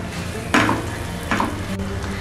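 Ginger paste and chopped onion fry in a hot pan, two quick scraping strokes of a spoon over a steady close sizzle, with no voices.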